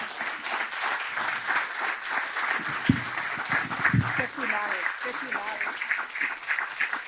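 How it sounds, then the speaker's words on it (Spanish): Audience applause at a Montevideo conference hall event, steady dense clapping filling the whole stretch with a host's voice speaking over it. "el aplauso es para ustedes"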